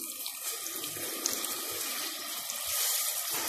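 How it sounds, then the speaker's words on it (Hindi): Water poured into a pan while cooking chicken seekh kabab, a steady splashing stream filling the kitchen, with no talk. "अब ये मैं इसके अंदर थोड़ा सा पानी डालूंगी"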